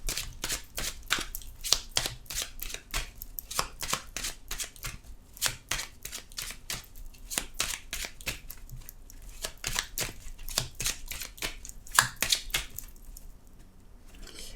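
Petit Lenormand oracle cards are shuffled by hand in a long run of quick, crisp riffling bursts, close and fairly soft, with no talking over them.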